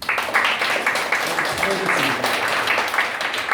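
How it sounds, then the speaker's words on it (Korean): An audience at a church debate claps in a continuous, fairly loud wash of applause from start to finish, with a brief voice partly buried in the middle. "여러분 자신들에 위해서 한번 박수 부탁드립니다"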